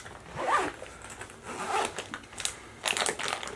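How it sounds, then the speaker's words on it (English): A zipper drawn along a stuffed travel backpack packed with small travel cases and packing cells, several rasping pulls with short pauses between them, close and fairly loud. "Let's just try and zip this up"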